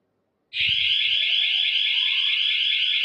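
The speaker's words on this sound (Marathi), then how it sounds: "मी तुम्हाला सायरन वाजून दाखवते आता" A home security alarm siren switched on by remote starts abruptly and blares steadily at close range, a loud continuous electronic wail with a rapid warble, heard alone without talk.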